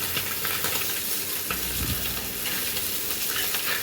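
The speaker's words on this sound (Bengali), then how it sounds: "আমি এই মাছটা ভাজি করে নিতেছি" Pangas fish frying in hot oil, a steady dense sizzle with spattering crackles running throughout, close and continuous, with a few stirring scrapes in the middle.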